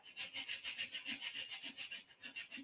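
Banjitar wood being sanded by hand with 400 grit sandpaper, a soft, close, rhythmic rasping of steady back-and-forth strokes, about four per second.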